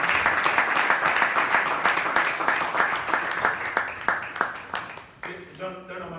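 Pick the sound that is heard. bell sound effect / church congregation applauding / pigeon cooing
church congregation applauding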